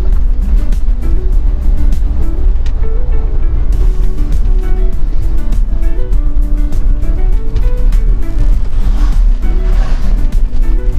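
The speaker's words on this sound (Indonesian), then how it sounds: "Lumayan banyak sih ya truk jam segini nih." Heavy trucks drive along the mountain road between Kertek and Kledung near Mount Sindoro in the morning. Loaded trucks crawl uphill, and a steady, loud engine drone with rumbling low end carries throughout without a pause.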